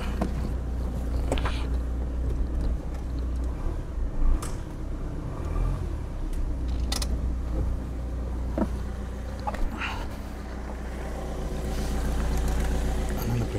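A motorhome rolls onto a portable wheel weighing pad, its engine a low steady rumble with occasional knocks and creaks as the wheel climbs over, growing slightly louder toward the end, no talking.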